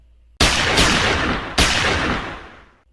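A blessed bullet is fired in a loud gunshot sound effect: one sharp blast with another close behind, then a second heavy shot whose booming echo rolls and fades away.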